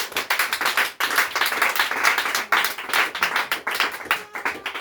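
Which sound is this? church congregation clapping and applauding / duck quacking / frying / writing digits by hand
church congregation clapping and applauding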